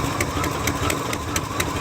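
A boxy Chevy Caprice engine idles steadily in below-freezing weather just after a cold start, a constant low rumble with faint periodic ticking, recorded close with no talking.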